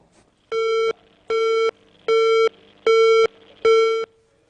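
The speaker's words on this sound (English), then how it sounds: "Oh, we lost the phone call." Busy-signal tone on a telephone line after a live call-in to a religious TV program drops: five evenly spaced, steady electronic beeps, each about half a second long, loud and clear with no talk.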